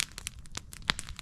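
Plastic bag crinkling in the hands outdoors, a series of soft irregular crackles and rustles, close and quiet.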